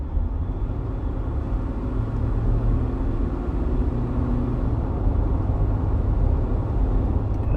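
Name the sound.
2024 Ford Ranger 2.0 biturbo accelerating at full throttle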